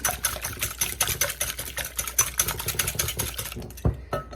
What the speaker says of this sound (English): I whisk it.